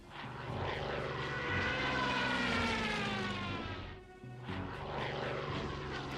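In the Hex of Steel wargame, a propeller aircraft on a strafing run drones loudly with a rising and falling engine pitch. It fades briefly, then swells again.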